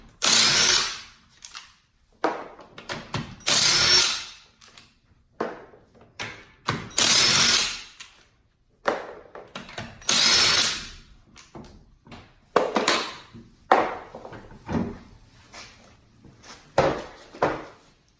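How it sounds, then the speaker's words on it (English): Larger electric impact wrench removing the front wheels of a Fiat 124 Spider with a 7/8-inch or 21 mm socket: repeated bursts of rattling hammering, each a second or so, separated by pauses, close and fairly loud. "a larger electric impact to remove the wheels"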